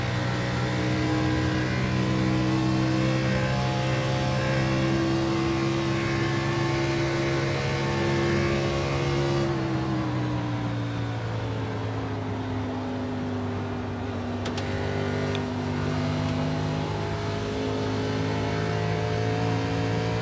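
An Xfinity Series stock car engine holds a steady, loud drone on a lap in a racing game, with the throttle modulated near 133 mph. The pitch sags midway and then recovers. Nobody speaks.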